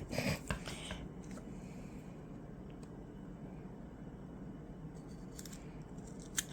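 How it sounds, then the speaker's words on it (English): Scissors snip through soft foam with a few crisp cuts near the start, followed by quieter rustling and handling against a low steady background hum. "See how easy it is to cut, and it's just foam, but it does stick to your scissors."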